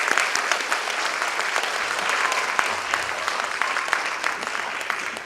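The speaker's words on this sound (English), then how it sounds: "So please give her another round of applause on my behalf." Steady applause from a large crowd fills the room, dense clapping holding at an even level throughout with no pauses.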